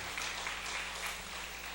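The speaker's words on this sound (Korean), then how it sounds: "우리 격려의 박수 한번 해주시기 바랍니다" Congregation at a Sunday church service applauds in encouragement, a soft, steady wash of clapping heard at some distance with a faint low hum underneath.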